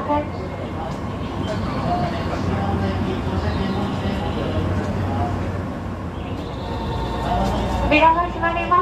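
Nankai 2000 series limited express train bound for Namba running between Kongo and Sakaihigashi, with a steady rolling rumble and rattle under spoken onboard announcements and a brief squeal near the end.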